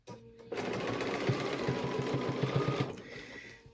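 A sewing machine stitching a pillow top with Kimberbell borders runs steadily for about three seconds, its fast needle hum and rhythmic mechanical ticking close and clear, then slows and stops.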